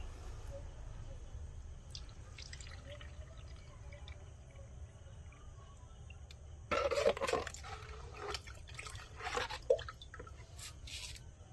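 Fungicide-mixed water trickles and drips onto the base of a potted adenium plant during repotting, faint splashes and drips clustering in the second half over a low steady background hum.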